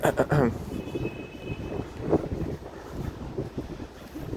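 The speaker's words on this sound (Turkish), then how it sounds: "Hava soğuk. Rüzgarlı." Cold wind buffets the microphone with a low rumbling roar and gusty fluctuations; a voice speaks briefly near the start.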